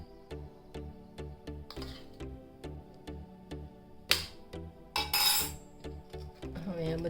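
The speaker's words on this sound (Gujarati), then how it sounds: "હવે આ બધા જ પાવડર આમાં મિક્સ કરી દઈશું." A spoon stirs homemade powders, gram flour and charcoal powder among them, in a bowl. It makes a steady run of light metallic clinks and taps, with a few louder scrapes and knocks.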